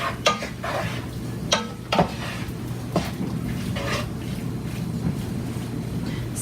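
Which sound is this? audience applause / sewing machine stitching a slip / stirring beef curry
stirring beef curry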